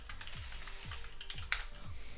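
Typing on a computer keyboard at a home desk while coding, a quiet run of soft key clicks in an uneven rhythm with one sharper tap partway through, heard close with nothing else.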